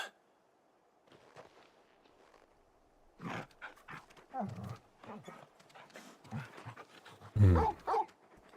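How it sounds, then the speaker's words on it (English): Dog panting in the video game Final Fantasy XVI, soft quick breathy bursts and some scuffling near at hand, starting after a quiet opening and growing louder toward the end. "Happy dog is happy."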